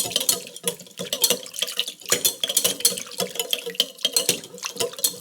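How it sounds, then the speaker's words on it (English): A vinaigrette with a few dashes of hot sauce being whisked in a bowl, making a quick, rhythmic clatter of whisk against bowl that repeats steadily throughout. "Then we're going to whisk this well to combine."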